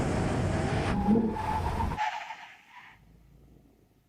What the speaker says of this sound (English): Brake test from 100 miles an hour. When we reach the line, full emergency stop.